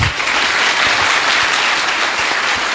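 An audience claps loudly and continuously in a church-style gathering during a religious debate, a dense sustained wash of applause from start to finish with no clear speech.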